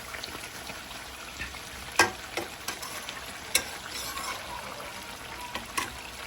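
Chicken biryani frying in a pan while being stirred, a steady close sizzle broken by a few sharp clicks and scrapes of the spoon against the pan.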